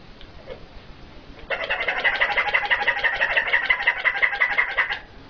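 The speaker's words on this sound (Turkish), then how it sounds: "Ördeğimiz cik cik diyor bak." A toy duck gives a fast, steady run of high squeaky chirps lasting several seconds, loud and close against a quiet room, with no talking over it.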